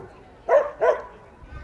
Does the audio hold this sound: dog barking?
yes